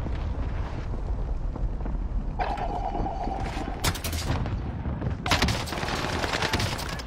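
Video game gunfire in a combat match: bursts of rapid shots and sharp cracks over a rumbling battle background, some loud and close, with a few heavier booms.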